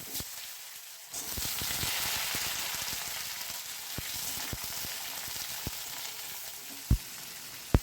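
Potato pieces frying in a pan for a drumstick curry, a loud sizzle that bursts up as they hit the oil, then steady crackling with irregular pops and a couple of sharp knocks.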